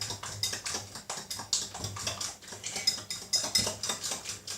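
Eggs and cottage cheese are mixed in a bowl with a utensil, giving a steady run of quick clinks and scrapes against the sides in an even, repeating rhythm, close and clear with no talk.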